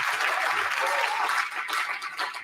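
Applause from a studio audience on a Manchester United happy hour game show, a dense, steady wash of clapping that carries on throughout and thins a little toward the end.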